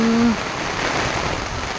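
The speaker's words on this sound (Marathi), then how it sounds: "खूप खूप खूप पाऊस पडत आहे" Heavy monsoon rain at Mahabaleshwar pours down in a dense, steady hiss, briefly topped by a short tonal hoot at the very start.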